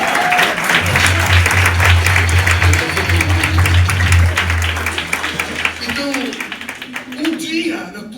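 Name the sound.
church congregation applause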